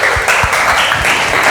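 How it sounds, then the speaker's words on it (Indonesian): A classroom of students gives a loud round of applause, a close, even wash of clapping with a few low thumps beneath it. "kita beri aplaus untuk kita semua dulu"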